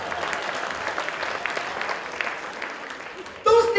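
Comedy show audience claps in a sustained round of applause, many hands together, fading slightly before a voice cuts in loudly at the end.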